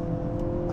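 A Hyundai Kona N engine roars loud and steady from inside the car, a brief sustained rev high in the rev range under heavy load.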